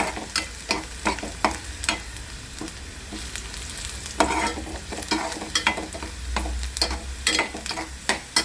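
Onion frying in oil with whole garlic cloves and cumin seeds for a capsicum vegetable dish, a steady close sizzle broken by repeated sharp scraping strokes of a spoon stirring the pan, with no voices.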